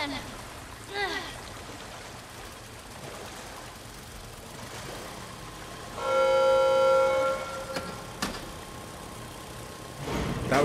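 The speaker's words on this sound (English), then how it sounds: "See, that generator still got some juice." A generator in The Last of Us runs as a steady mechanical hum over running water, with a louder tonal whine swelling for about two seconds midway before fading back.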